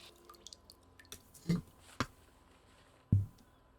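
Water collection in Project Zomboid, heard as a few sparse drips and plops, with three distinct louder drops spaced irregularly over a quiet background.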